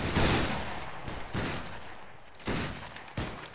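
In the Battlegrounds III video game, a ragged musket volley rings out as several loud, overlapping bangs in quick bursts, each trailing into a rumbling echo, with no talking.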